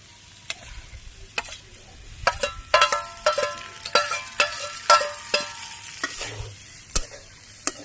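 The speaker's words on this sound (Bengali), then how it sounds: "নেড়ে চেড়ে ভাজি করে নিই।" Fish frying and being stirred in a pan on a home stove, with sharp spatula scrapes and clinks landing irregularly over a steady close sizzle, no voices.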